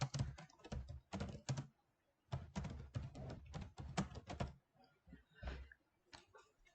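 Someone types a document name on a computer keyboard in Word, in quick clusters of close, crisp key clicks separated by short pauses.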